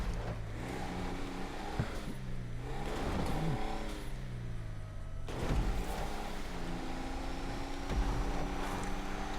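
An off-road truck's engine revs in a Grand Theft Auto V off-road race, rising and falling in pitch several times as the throttle is gassed and eased, moderately loud with no talking.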